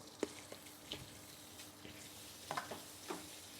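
Pork dropped into hot oil for a stir-fry with ginger and honey, giving a quiet, steady sizzle with a few brief pops and clatters, no voices.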